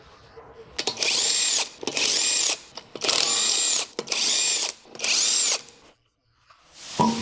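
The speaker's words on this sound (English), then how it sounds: "remove the lug nuts completely using your impact" Impact wrench spinning off the front lug nuts of a 2006-2011 Honda Civic, five loud close bursts of roughly a second each with short pauses between, then quiet.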